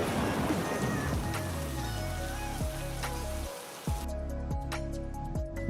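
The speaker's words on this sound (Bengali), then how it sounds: "বৃষ্টি।" Steady rain pours on a jungle trail to Jinnapara near the Kraikhong-1 waterfall in Bandarban, Bangladesh, a dense, constant patter with a few brief dull knocks.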